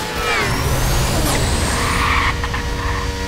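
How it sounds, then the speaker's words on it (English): A race car engine in the video game Burnout Revenge screams at high revs with whining harmonics, alongside brief tire squeal, loud and continuous throughout. "It's a really high revving engine now."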